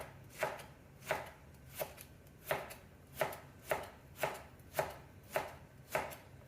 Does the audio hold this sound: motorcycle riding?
no